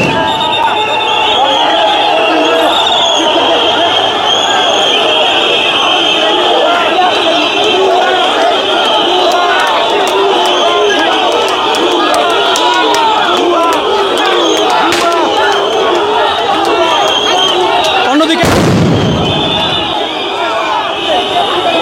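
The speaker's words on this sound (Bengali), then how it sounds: "আমরা দেখছি একটি সাউন্ড গ্রেনেড ছুটছে" Sound grenade thrown by police at protesting teachers, a sharp broadband blast near 18.5 seconds that cuts through a loud, constant crowd roar of shouting and chanting from start to finish.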